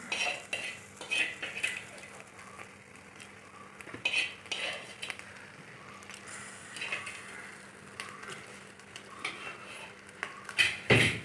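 Metallic clinks and scraping as coconut-shell charcoal is set into a pot for chicken mandi, light clattering knocks over a low steady hum, with a sharper clank near the end.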